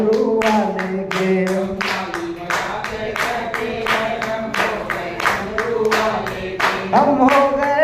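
Devotees clap in steady rhythmic time through a Shiv Mahapuran katha bhajan, the claps loud and close, carried over continuous sung chanting and devotional music.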